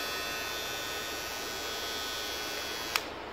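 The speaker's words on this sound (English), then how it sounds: "I connected it to my Philips trimmer, so you can see now it is working well." A Philips electric trimmer runs on a homemade charger, giving a steady, even electric buzz and hum throughout, ending with a brief sharp click.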